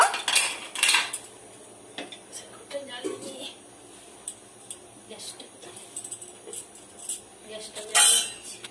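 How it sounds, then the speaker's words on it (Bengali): Food being tipped into a pressure cooker for Bengali khichuri, with metal clinks and scrapes of utensils against the pot and rattling, while a voice talks quietly in between. "এবারে আমরা প্রেসার কুকারে ঢেলে দেব।"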